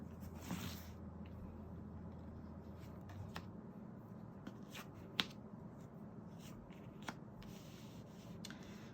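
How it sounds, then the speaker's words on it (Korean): Tarot cards are shuffled by hand in quiet, soft riffling and rubbing, with light taps and small snaps scattered throughout. The sound is faint and close, with no talking. "카드를 섞고 함께 보도록 하겠습니다"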